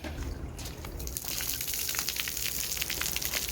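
Water sprays steadily from a splash pad shower nozzle coming up out of the ground, a continuous hissing patter that swells slightly partway through and stays fairly faint at a distance.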